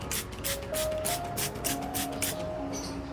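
Liquid fertilizer is sprayed onto an orchid's foliage in a rapid series of close hissing bursts from a hand sprayer, with faint background tones underneath.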